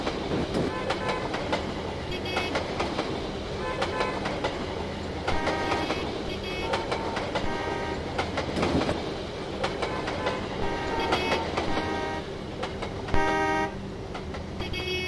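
A Norfolk Southern freight train rolls past close by, wheels clattering rhythmically over the rails in a continuous rumble, with a horn toot and faint voices in the mix.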